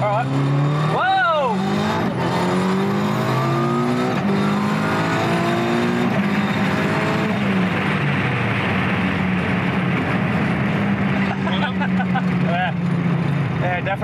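A modified 1990s Japanese street car running nitrous accelerates hard, the engine note climbing through the gears in loud sustained pulls with shifts between, while people talk over it from inside the cabin.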